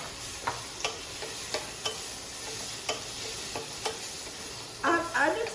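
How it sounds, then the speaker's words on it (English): Sweet potato and yellow pumpkin pieces stirred in a pan of cumin seeds and hot ghee: a soft steady sizzle with sharp, evenly spaced scraping strokes, then a louder clattering stir near the end. No talking. "My jeera is done and I'm going to add the veggies."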